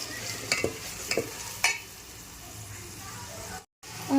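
Ground masala paste stirred and fried in hot oil on a gas stove for homemade misal, with soft sizzling and a few sharp scraping strokes of the spoon, faint and brief, under a speaking voice.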